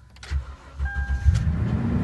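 A Toyota truck engine cranks and catches after key programming, a short starter whir then the motor settling into a steady close idle.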